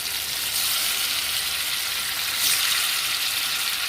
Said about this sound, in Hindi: तेल गर्म हो गया है, तो एक एक करके इसमें डालते जाती हूँ इस तरह से, और पलट के इसे और करके लाल कर लूँगी।